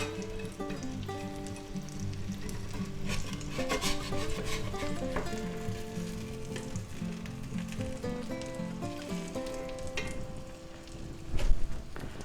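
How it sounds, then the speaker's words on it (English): French egg, ham and cheese sandwiches are flipped with a big spatula on a griddle, giving steady soft sizzling with scraping and clattering spatula knocks throughout and a louder thump near the end. "let me see if I can give these a flip"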